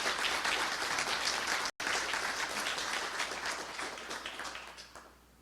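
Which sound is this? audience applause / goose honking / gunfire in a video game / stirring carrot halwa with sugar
audience applause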